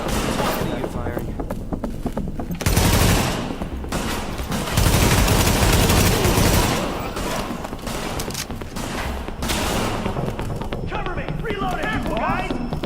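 Sustained gunfire in The Division on PS4, dense rattling bursts with heavier volleys near three and five seconds, loud and close, while characters shout over the fighting.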